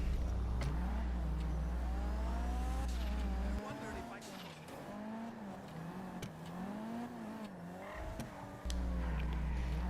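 A Kuruma car in GTA V Online races with a rising and falling engine drone, tire squeals and skids as it corners, loud and close, with a deep rumble dropping in and out.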